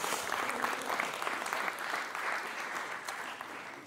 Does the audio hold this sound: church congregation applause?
yes